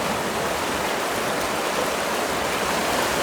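A strong river current rushes in a constant, loud, broadband roar of flowing water at a fishing spot, unbroken throughout, with no voices.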